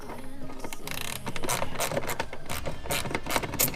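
A hand ratchet turns an 8mm bolt out of a plastic flap on a Jeep JL, making rapid, close clicking and grinding bursts in an uneven rhythm with no talking.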